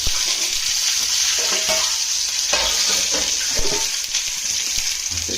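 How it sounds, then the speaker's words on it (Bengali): Duck eggs frying in oil give a dense, steady sizzle heard up close, broken by occasional scraping and stirring knocks from a utensil, with no talking. "ডিম ভালো করে ভাজা ভাজা করে নেব"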